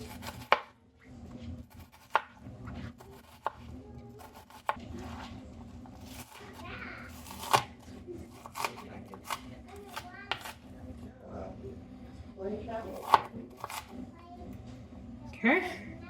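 Knife chopping vegetables on a cutting board while preparing dinner, a series of sharp, uneven taps spread through the clip over a steady background hum, with occasional voices nearby.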